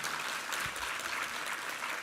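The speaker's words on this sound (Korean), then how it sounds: "우리 하나님께 감사와 영광의 박수 올려드리겠습니다." Sustained applause from a Korean Sunday worship congregation, a steady wash of many hands clapping at moderate volume with no speech over it.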